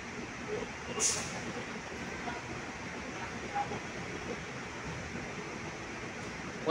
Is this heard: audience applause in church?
no